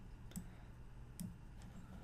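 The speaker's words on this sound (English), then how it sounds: "I can always press Ctrl and G keys." Two quick, faint clicks of keys pressed together on a computer keyboard, a Ctrl and G shortcut, spaced about a second apart over a quiet background hum.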